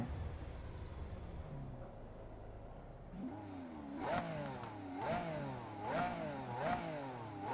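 Italian supercar engine in the Solar Crown racing game, idling low at first, then revved in four rising, repeated blips with a throaty climbing tone, heard alone and fairly close.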